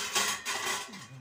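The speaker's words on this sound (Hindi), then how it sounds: "निकाल रही है बर्तन वगैरह" Dishes and utensils are taken out in a home kitchen while a meal is being served, giving a few close, light clinks and clatters of plates and cutlery in quick succession.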